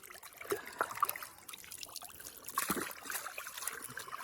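Running water trickles and splashes while a freshly filleted steelhead is rinsed off, irregular spattering close by with no talk.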